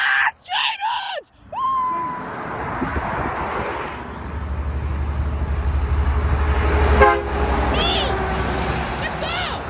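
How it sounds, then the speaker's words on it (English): A Peterbilt truck's air horn honks in short loud blasts near a road, with excited voices shouting and cheering before and between the honks as traffic rumbles past. "Please honk the horn."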